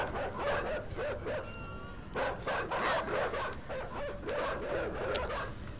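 Dogs bark, yip and whimper in the video game Inside, a close, continuous run of aggressive barking and snarling layered over a rumbling game background.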